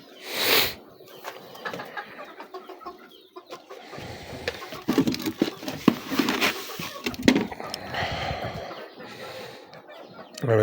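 Cochin chickens cluck and squawk busily close by in a garden, with a rooster among them and some rustling, a loud flurry near the end.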